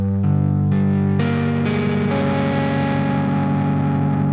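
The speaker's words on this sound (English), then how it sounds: "Now that with the open strings is gonna sound a little dissonant again" A heavily distorted electric guitar rings out a dissonant chord against open strings as part of a song's riff, with notes entering one after another and then sustaining loudly.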